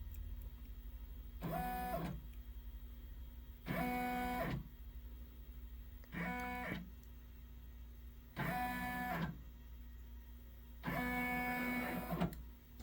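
An embroidery machine traces a design on a hooped towel: five separate whirring, tonal motor runs of about a second each, separated by short quiet pauses, close and fairly loud, with no voices.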